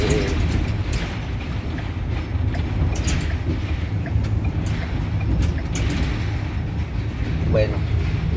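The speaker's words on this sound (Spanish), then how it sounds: "un camioncito siempre hace ruido." Small truck driving on the road, with a steady engine drone and broadband road and wind noise running continuously throughout at moderate level, with no clear talk over it.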